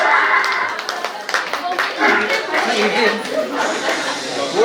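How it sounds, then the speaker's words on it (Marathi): People clapping at a first birthday party, a burst of scattered close applause from a small group mixed with chatter and talking voices. "सगळ्यांच्या जोरदार टाळ्या वाजवूया आपण"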